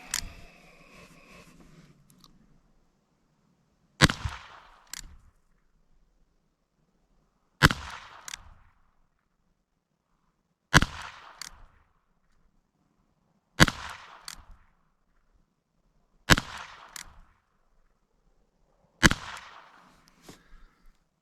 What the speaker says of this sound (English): We're going to shoot the little Bearcat. First up on the docket, Standard Velocity 22 CCI.